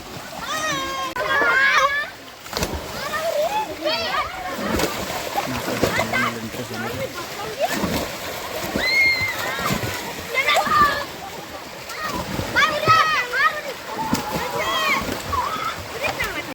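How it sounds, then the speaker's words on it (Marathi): Water splashes and gurgles steadily at a monsoon waterfall in an oxygen park at Sarde, Uran, while excited children shout and play in the water close by. "खळखळणारा धबधबा"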